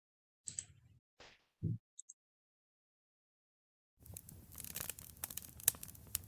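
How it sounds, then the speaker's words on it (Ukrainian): A few scattered clicks and rustles, a pause of silence, then a campfire crackling sound effect playing in a 2D Unity game, steady crackling and popping with sharp snaps over a low hiss. "Так, у нас відтворюється звук вогню."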